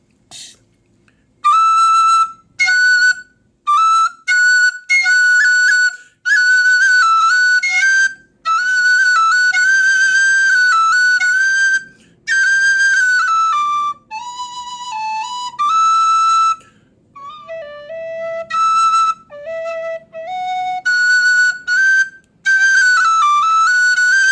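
A Dante soprano D tin whistle plays a lively melody of bright, pure notes, alone and close. The phrases are broken by short breath pauses, with quick runs and ornaments rising and falling across the range.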